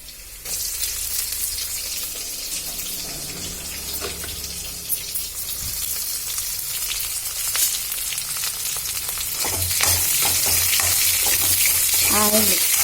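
Onions go into hot oil already holding garlic, cumin, green chillies and curry leaves, raising a steady sizzle and frying crackle with brief stirring clatter, loudening toward the end.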